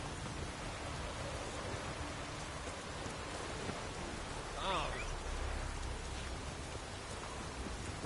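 Rain falls in a steady, dense hiss, constant and enveloping throughout, with a brief brighter chirp-like sound in the middle and a low rumble joining near the end.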